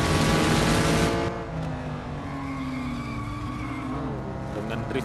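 A race car in a Pure Stock Challenge race drifts through a corner, engine roaring loudly at first, then dropping to a steadier, quieter drone with tire noise as it slides on, while a commentator talks over it.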